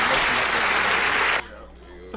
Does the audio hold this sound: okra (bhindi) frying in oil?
no